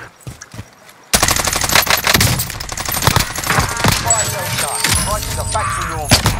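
Gunfire at a catwalk in a video game battle: a few sharp shots, then continuous loud rapid automatic fire with metallic clatter, while voices talk over it.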